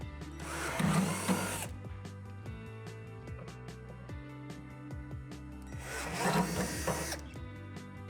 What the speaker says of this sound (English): we need to drill out these 2 holes.